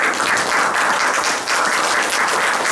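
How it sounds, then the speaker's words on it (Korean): A lecture audience applauds to welcome a professor, giving a loud, continuous round of clapping with individual claps audible in the mix and a brief dip midway. "김영준 교수님을 소개할 때 박수로 맞이해 주십시오"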